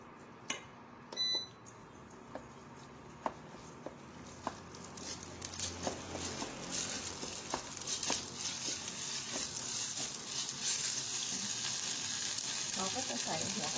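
Curry paste frying in a spoonful of olive oil over low heat, a soft steady sizzle that builds and thickens over time, with scattered faint clicks and taps of stirring.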